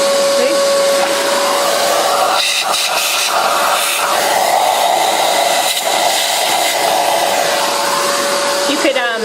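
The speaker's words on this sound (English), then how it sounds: "I would also use the vacuum." A vacuum cleaner runs continuously with a loud, steady whine and hiss, with faint knocks and rustles as it cleans a Mazzer Mini coffee grinder.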